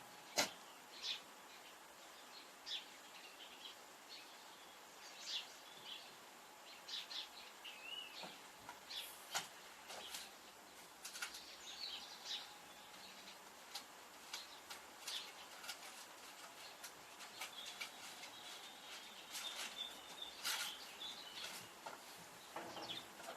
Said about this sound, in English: nice sound with the birds